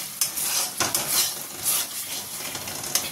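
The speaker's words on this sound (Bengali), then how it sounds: "এদিকে মালাইকারির মশলাটা ভালো করে কষিয়ে নিয়েছি।" Malai curry spice paste fries in a pan, sizzling steadily while a spoon stirs and scrapes against the metal in irregular strokes, close and moderately loud with no talking.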